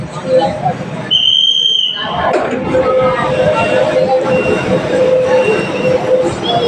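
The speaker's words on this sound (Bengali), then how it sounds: "দেখো গাইজ, চলে এসেছে মেট্রো" A metro train rolls into a Kolkata station with a steady rumble and a brief high-pitched squeal from the wheels, while people talk nearby.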